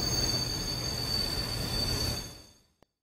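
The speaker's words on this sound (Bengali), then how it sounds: "ট্রেন থেমেও গেল।" A cartoon train brakes to a halt. A loud, sustained screech of wheels and a rumbling roar fade out near the end, followed by one faint click.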